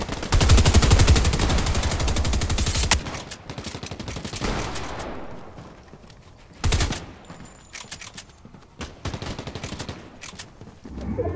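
Rapid automatic gunfire from a weapon in a video game, a dense sustained burst followed by scattered short volleys and single shots, loud and close, with no voices.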